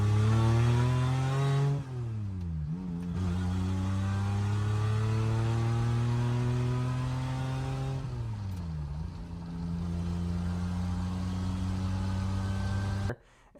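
A Pontiac Fiero with a swapped 3800 V6 accelerates hard, its engine note rising steadily through the gears with two clear shift dips, loud and close, and no talk over it.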